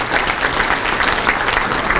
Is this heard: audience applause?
yes